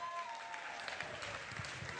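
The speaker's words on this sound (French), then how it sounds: "On va applaudir pour le lycée Ouézé Koulibaly de Bobo-Dioulasso." A crowd applauds a lycée from Bobo-Dioulasso at a drumming competition final, steady distant clapping running the whole time beneath a voice on a loudspeaker.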